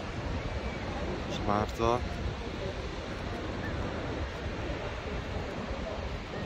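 Steady roar of Atlantic surf on a beach in France near Bahan, continuous wind-blown wash filling the scene, with a short spoken phrase briefly heard over it.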